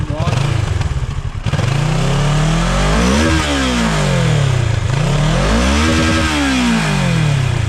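A Kawasaki Ninja 650 motorcycle engine starts close by, then settles into a loud idle broken by repeated sharp revs that climb and fall in smooth sweeps.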